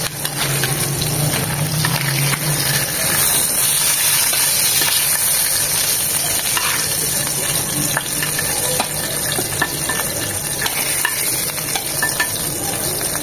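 Magur catfish frying in hot oil, a loud, continuous sizzle and crackle that holds steady throughout, with a faint low rattle near the start.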